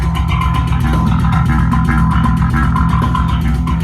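Dense, loud metal bass riff from Shreddage 3 MIDI bass reamped through a real bass amplifier via a signal-converting pedal, with rapid chugging low notes and drum-like pulses filling the whole stretch.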